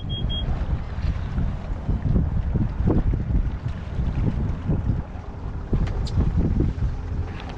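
Wind rushes over a sailboat about to raise its sails, a continuous loud buffeting roar with water sloshing against the hull beneath it and no speech.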